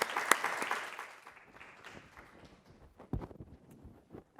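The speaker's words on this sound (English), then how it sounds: "Please give a round of applause." Applause at a dental school admissions workshop is sparse and quiet, a handful of scattered claps that thin out over a few seconds, with occasional thumps and shuffles.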